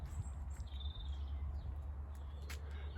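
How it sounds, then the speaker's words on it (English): Birds sing in a Suffolk garden on a sunny May day, a few faint, high chirps and short whistled notes scattered over a low, steady background hum. "Birds are singing"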